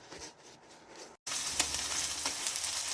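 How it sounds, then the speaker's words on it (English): A seasoned lamb loin hits a hot pan and bursts into a loud, steady sizzle after a brief quiet moment, with a few sharper crackles, close up and without talk. "Sear on all 4 sides until brown."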